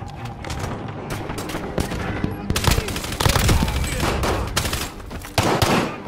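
Rapid gunfire from a video game, a frantic Resurgence match on a jungle map, with bursts of automatic shots and heavier thumps. The shooting is loud and nearly continuous throughout, with a voice faintly under it.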